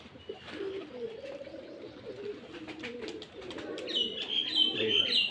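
Giribaz pigeons coo in low, rolling murmurs that repeat close by. Sharper chirps and tweets join near the end, and there is faint background noise.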